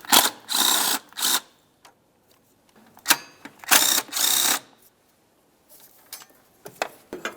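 Quick bursts of ratcheting from a ratchet backing out a 10mm bolt on the EGR tube bracket of a 2003–2010 Mercury Grand Marquis, several close, loud runs separated by brief pauses.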